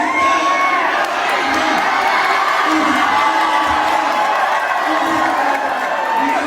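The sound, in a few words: crowd shouting and cheering at a street basketball game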